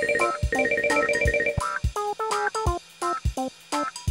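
A cartoon telephone trills in a bouncy electronic ringtone, with quick repeated bursts and melodic chirps over a light musical backing in a children's animated scene.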